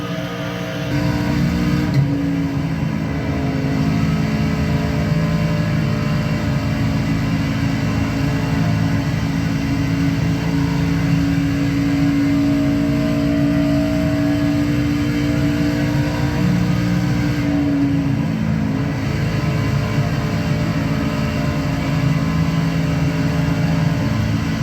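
A NASCAR Chevy race car engine in the iRacing game drones steadily at high revs from the in-car view, holding a constant loud tone throughout with only slight pitch shifts.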